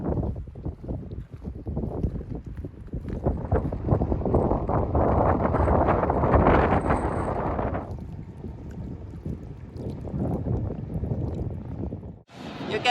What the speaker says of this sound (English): look if we find a place without so much wind